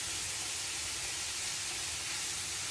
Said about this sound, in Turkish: Her tarafı eşit şekilde pişene kadar hafif kavuruyorum.